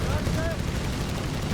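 Dense rumbling barrages of artillery fire in the strategy game Company of Heroes 3, continuous booms and crackle from a chaotic battlefield, with a voice talking over it.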